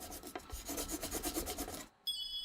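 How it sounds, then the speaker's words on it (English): A carpenter rubs the wooden joint where a box's bottom board will sit, pressing the wood with a steady rasping, scraping friction in repeated strokes, close and fairly quiet, broken by a brief pause before a bright tonal sound. "First, he rubs the part where the bottom board will go to apply pressure."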